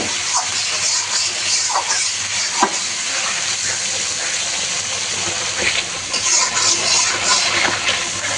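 Potatoes dropped into hot spice paste for a pangash fish curry, sizzling and frying steadily in a pan with a continuous bright hiss and occasional stirring scrapes, no voices.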